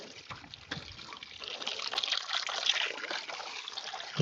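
Fresh water trickling and splashing at an outdoor gold panning site beside a trommel, a steady close wash of running water with small bubbling surges, no voices.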